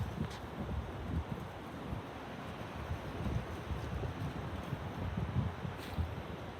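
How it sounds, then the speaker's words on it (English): On a very windy day, a steady gust roars through trees and moving branches. It is a dense, low rushing sound with rustling leaves and some buffeting on the microphone, and no one speaks. "The leaves are blowing, the branches are moving, and it's a very windy day."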